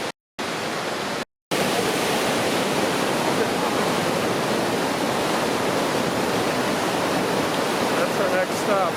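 Steady, loud rush of Vernal Fall waterfall on the Mist Trail in Yosemite, a dense broadband roar that fills the whole stretch after two brief dropouts near the start.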